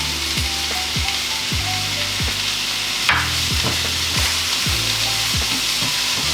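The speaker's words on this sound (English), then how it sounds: "I'm just going to reduce down some of the onions and some of the mushrooms" Onions and mushrooms fry in a pan with a steady, even sizzle throughout, close and fairly loud, joined by a few clicks and knocks of a utensil, and no one speaks.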